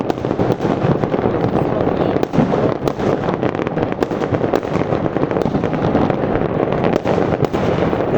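Firecrackers bursting for New Year, a dense continuous crackle of many rapid pops and bangs, loud and nearby with distant booms mixed in.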